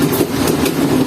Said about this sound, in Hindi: तो अब तक कुछ ही देर में बसाल जंक्शन रेलवे स्टेशन पर हमारी ट्रेन पहुँचने वाली है